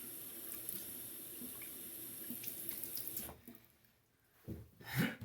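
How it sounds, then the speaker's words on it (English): Water splashes steadily onto a Japanese natural (Jnat) pocket whetstone for a few seconds, then fades to near silence before a few softer wet sounds. "Add a couple of drops of water."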